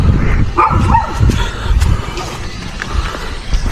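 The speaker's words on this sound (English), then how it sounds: "That's the neighbor's dog barking." A neighbor's dog barks and yips beside a fenced backyard compound during a yard clean-up, with several quick barks at a moderate distance over faint outdoor background noise.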